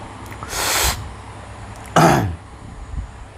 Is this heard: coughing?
yes